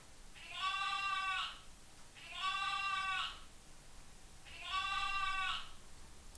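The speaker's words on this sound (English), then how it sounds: "I've got a clock that makes sheep noises" A novelty clock giving three evenly spaced, drawn-out sheep bleats, each about a second long with clear gaps of near silence between, fairly close and clean.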